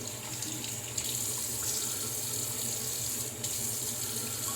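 Water runs and trickles steadily from a tap onto a shaving brush, a constant splashing hiss with small drips and gurgles throughout.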